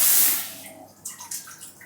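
Water from a handheld shower in a small bathroom gushes loudly at first, then fades into a softer spray with a few splashing bursts.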